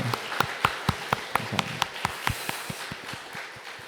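A church congregation at a Sunday service claps for the Hosanna choir: a scattered run of separate, fairly close hand claps from a few people, uneven in rhythm and fading slightly toward the end.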